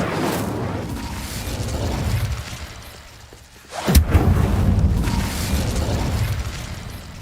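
Incendio fire spell cast in Hogwarts Legacy, a sharp fiery burst that flares suddenly, followed by a sustained roaring, crackling rumble amid a dense background of game ambience.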